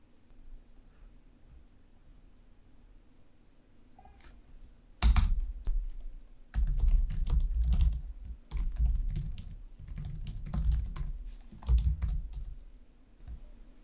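Typing C# code on a computer keyboard: after a quiet start, bursts of rapid, close clattering keystrokes with brief pauses between runs, fairly loud and dense.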